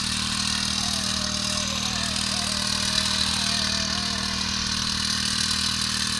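A petrol engine on a crop sprayer pump, spraying pomegranate trees, runs at a steady, buzzing idle close by, its drone continuous throughout with a faint warbling tone over it.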